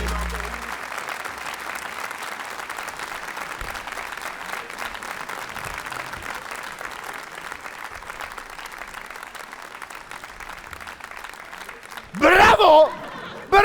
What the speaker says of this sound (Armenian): Բարձր ծափերի ներքո դիմավորեք